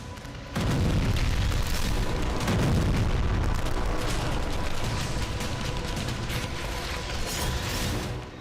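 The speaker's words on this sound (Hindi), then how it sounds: "यहां रिहायशी इलाके में रॉकेट के धमाके हुए।" Rocket blasts strike a residential area, a dense, continuous roar of heavy booming and rumbling that stays loud and rough the whole time, with no voices.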